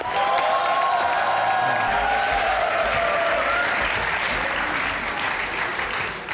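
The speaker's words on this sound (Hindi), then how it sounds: "आपकी भरपूर तालियों में ज़र्निश खान।" Studio audience applause welcoming a guest on a comedy talk show, a loud sustained wash of clapping, with a held musical tone under the first half.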